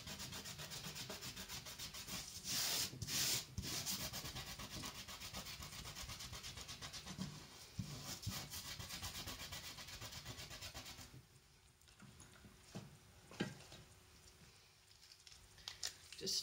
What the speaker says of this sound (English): Just starting removing the masking fluid